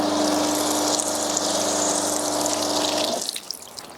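Water streams steadily onto a car being rinsed for drying, a loud continuous hiss and splash from close by that cuts off abruptly near the end, leaving faint drips.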